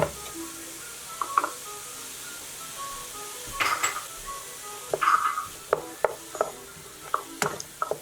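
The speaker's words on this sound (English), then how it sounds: "Just go ahead and saute those with everything else." Garlic, peppers and onions sautéing in olive oil for jambalaya, a quiet sizzle with scattered clinks and scrapes of a utensil stirring the pan, near and without talk.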